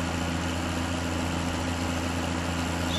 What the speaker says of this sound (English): tractor running right there.